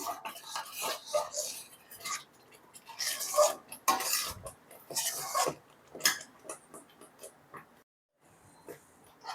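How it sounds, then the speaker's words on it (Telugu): Thick mango thandra being stirred in a pan, giving irregular close scrapes and clinks of a spoon against metal, with short pauses between strokes. "దగ్గరుండి కలుపుతూ ఉండాలి ఉండలు కట్టకుండా ఉంటుంది"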